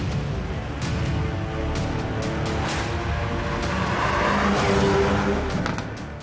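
A 2019 Hyundai i30 Fastback N sports hatchback drives along, its engine and road noise a steady loud drone that swells slightly toward the middle before easing off.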